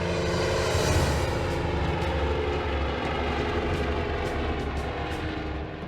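A helicopter hovers close to a huge machine, producing a loud, steady engine and rotor drone with a rhythmic pulsing texture. The sound fades slightly toward the end, and there is no talk.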